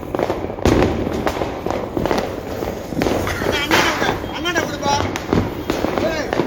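Firecrackers go off at a Diwali celebration, with sharp bangs and crackling bursts over a dense background of festive noise, and people talk and shout throughout.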